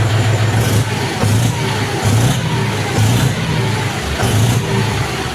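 A John Deere 5045 D PowerPro tractor engine revs steadily nearby, its low diesel drone swelling in repeated surges roughly every second, loud and continuous with no talk.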